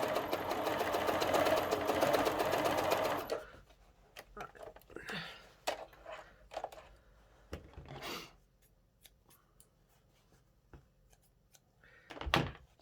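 A sewing machine runs a narrow top stitch through fabric for a cloche hat, a loud steady whirring burst for about three seconds, followed by quieter handling noises, soft thumps and faint voices.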